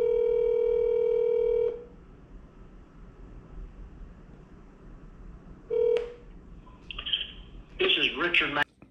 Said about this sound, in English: I'm gonna call him and see what he's got to say.